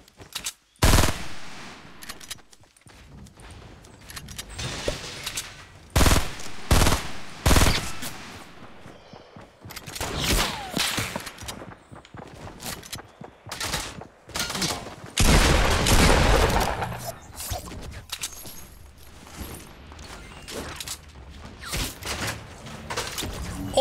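Sniper gunfire in Fortnite Battle Royale: loud, sharp shots and short bursts fire at irregular intervals, with quieter game noise between them.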